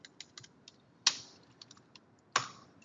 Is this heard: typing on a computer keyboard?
yes